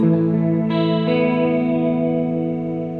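Sustained clean chords from a Gibson Studio electric guitar through a Boss GT-10 with a shimmering, wavering chorus effect, ringing steadily and fading slightly toward the end.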